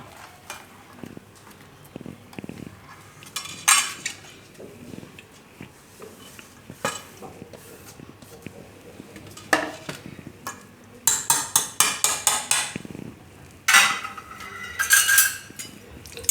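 Leftover roti pieces being stirred in a pan, with repeated scraping and clinking of a spoon against the metal, including a quick run of rhythmic strokes, close and intermittent.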